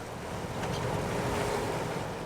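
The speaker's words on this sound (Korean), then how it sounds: "새벽부터 바람이 세더니 파도의 기세가 심상치 않습니다." Strong wind roars over a rough winter sea near Geomundo island, with waves surging continuously and loudly around a fishing boat.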